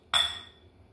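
A single bright glassware clink rings out while kefir is added to gluten-free pumpkin cookie dough, struck sharply and then fading quickly into a quiet kitchen background.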